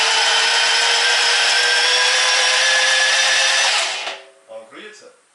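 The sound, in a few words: Niva car engine cranking without spark plugs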